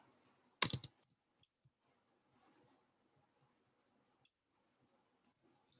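A short burst of computer keyboard typing while entering data into an Excel spreadsheet, a quick cluster of close clicks followed by a few scattered faint taps in a quiet room.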